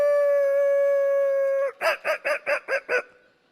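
A man imitates a dog with his voice, giving one long, steady, drawn-out howl and then six short, rhythmic yelps in quick succession, loud and close with no other sound around it.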